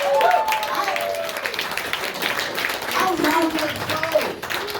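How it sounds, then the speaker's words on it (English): Comedy club crowd on a Thursday night claps steadily through the whole stretch, a dense patter of hands with shouts and cheers mixed in, while the comedian keeps talking over it. "clap it up for yourselves for coming out."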